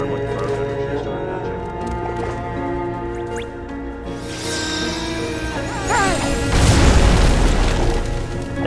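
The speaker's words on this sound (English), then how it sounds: "It's almost like too meaty on that explosion." A heavy explosion rumbles through Kingdom Hearts 0.2 Birth by Sleep amid layered game music and effects, swelling into a deep, loud boom near the end.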